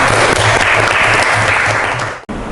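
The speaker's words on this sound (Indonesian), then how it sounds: "tepuk tangan untuk teman kalian" Students in a classroom clap for their classmates after a presentation, a dense, steady burst of many hands close by that cuts off sharply near the end.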